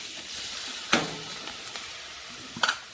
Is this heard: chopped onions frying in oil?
yes